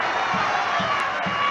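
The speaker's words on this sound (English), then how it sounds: "Biggest cheer of the afternoon from people of a Cheltenham persuasion." Football crowd at an FA Cup match between Cheltenham Town and Alvechurch, a broad, distant-sounding roar of cheering spectrators, steady and sustained across the stand.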